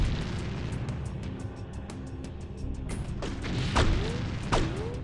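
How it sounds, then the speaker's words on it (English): Explosions in X-Com Apocalypse setting off ammunition and explosives lying on the ground, a rumbling blast followed by several sharp bursts and thuds popping in close succession. "the explosion damage is big enough that it's actually dealing damage to the items that are on the ground over here and causing some of the ammo to explode"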